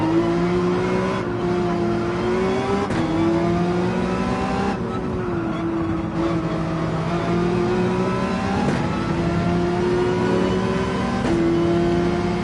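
Mercedes-AMG race car engine running behind in Gran Turismo 7 at Spa: a loud, sustained engine drone with steady rising and falling pitch as gears change, continuous throughout the clip.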